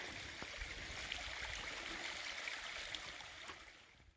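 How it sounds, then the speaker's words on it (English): A trailside stream on the Appalachian Trail runs steadily in a continuous close rush of water, fading slightly at the very end. "Oh, I love the sound of running water."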